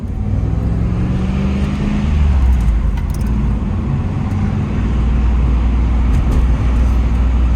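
A 1994 Chevrolet Camaro Z28 drives along with a steady low engine hum and road rumble from inside the cabin, continuous and fairly loud.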